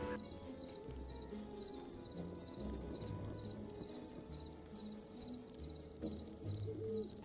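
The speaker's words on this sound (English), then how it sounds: "Hearing the crickets outside my home and the licking of torch flames really adds to the immersiveness of a game such as this." Crickets chirp at night in the video game Hytale, a soft, steady pulsing trill repeating evenly throughout at low volume.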